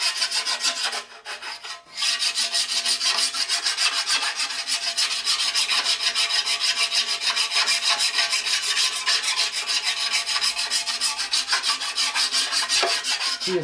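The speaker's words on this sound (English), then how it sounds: "Key is to keep the file moving." A hand file rubs back and forth across a metal part of a 12-inch surface grinder being squared up and straightened. It makes a steady, close, continuous rasping sound that breaks only once, briefly, near the start. No one speaks.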